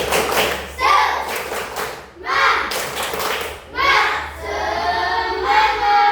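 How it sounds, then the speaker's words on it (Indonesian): A classroom of schoolchildren performs a rhythmic clapping cheer, bursts of patterned claps and thuds in three waves, with children's voices chanting along. "Tepuk semangat."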